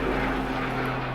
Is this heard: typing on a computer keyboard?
no